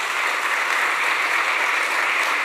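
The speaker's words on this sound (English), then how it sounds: "I think, can we have a round of applause for that?" Audience applause at a devotional talk show, a dense, even burst of many hands clapping together at steady volume, heard alone without talk.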